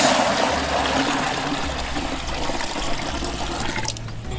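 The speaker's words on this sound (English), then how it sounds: "I'll put water halfway on the bucket." Water pours steadily into a bucket, filled halfway as the first step in making bokashi bio-fertilizer with yeast and molasses; a continuous, fairly loud splashing rush runs throughout, alone without talk.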